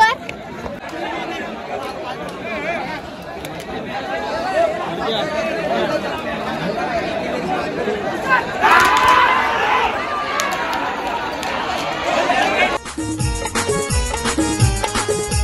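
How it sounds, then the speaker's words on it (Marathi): A dense crowd gathers at a bullock cart race starting point at the Desai field, loud overlapping chatter and shouting throughout, with voices near and far and a louder surge toward the end. "इथे कुत्र्यासारखी गर्दी आहे"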